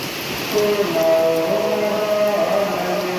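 Rain falls outside in an unexpected shower, a moderate continuous wash of noise heard from indoors, with a faint sustained tonal sound running over it.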